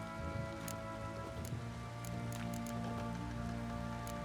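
Steady rain downpour in a video game, a dense continuous hiss of drops pattering on surfaces with a few sharper splashes, holding at an even level throughout with no voices.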